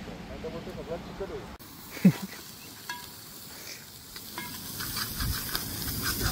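Food sizzles and fries in a pot over a burning gas stove, a soft crackling hiss running under people chatting nearby, with a few clinks as it is stirred.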